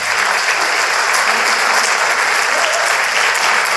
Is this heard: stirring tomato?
no